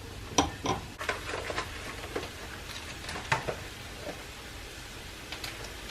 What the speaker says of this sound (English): I'm just waiting for my onions not even to cook, to sweat out just a little bit more.